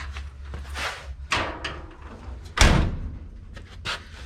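A car door is slammed shut on an older car under floor and rocker repair, one loud, sharp thud mid-clip amid a few lighter knocks and handling clatter.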